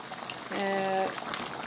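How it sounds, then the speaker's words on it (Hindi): Water boils and steams in an uncovered pot of steamed chicken tikka with lemon juice, giving a brief bubbling hiss and a short tonal whine that rises for about half a second and fades. "देखिए फ्रेंड्स, अब स्टीम बन रही है।"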